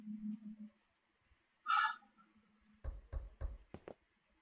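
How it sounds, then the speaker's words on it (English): A run of five sharp knocks lands in an irregular sequence near the end, loud and close, after a brief tone and a quiet stretch in a late-night horror game. "someone knocking?"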